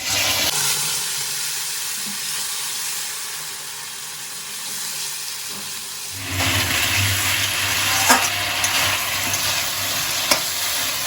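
Tomato, ginger and chilli paste hitting fried potatoes in a hot pan, a loud constant sizzle that swells and deepens partway through as stirring begins, with a couple of faint clinks and no speech.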